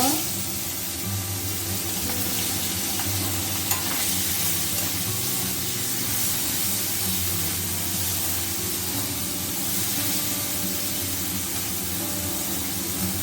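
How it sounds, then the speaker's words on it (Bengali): Shrimp frying in oil in a pan with black cumin seeds, a loud, steady, close sizzle and hiss with faint stirring that continues unbroken and without speech. "চিংড়ি মাছটা একটু ভেজে নেব"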